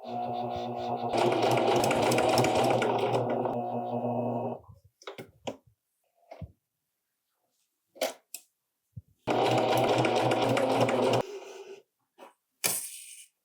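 A home sewing machine runs two steady bursts of stitching along a seam of Lane Pants, the first about three seconds and the second about two, with brief clicks and handling noises from fabric and pins between them.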